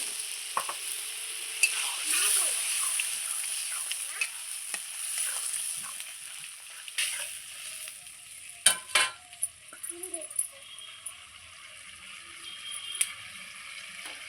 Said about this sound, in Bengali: এবার মশলার বাটিটা ধুয়ে জল দিয়ে দিচ্ছি।